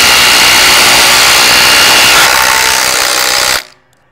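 A Milwaukee Gen 4 cordless impact driver on speed 3 driving a structural screw, a loud close continuous high-pitched whirring hammer that runs for over three seconds and then stops abruptly.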